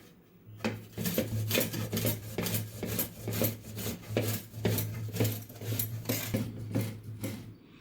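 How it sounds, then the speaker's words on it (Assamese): Peeled mangoes rubbed against the large holes of a kitchen grater, a steady rhythmic rasping of about two strokes per second, close and fairly quiet, with no talking. "আৰু ৰুকনাখনৰ যিফালে ডাঙৰ আছে আৰু সেইফালে মই আমকেইটা ৰুকি ল'ম"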